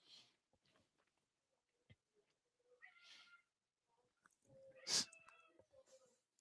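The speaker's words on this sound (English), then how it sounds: "I hear my cat crying." A pet cat cries in a few faint, drawn-out meows spaced apart in a quiet room, the last one louder and closer than the rest.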